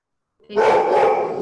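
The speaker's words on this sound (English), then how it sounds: "My dog is barking" A dog barks close by in a steady, loud burst that begins after a brief silence and carries on to the end.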